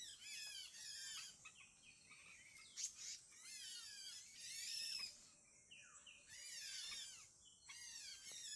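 Forest birds call out in a run of sharp, high chirps and trills that repeat every second or two. The calls sound fairly close and clear against a quiet woodland background.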